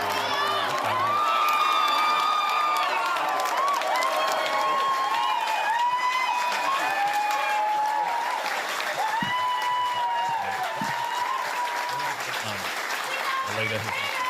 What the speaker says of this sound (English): here comes Peter Dutton, moving in through the crowd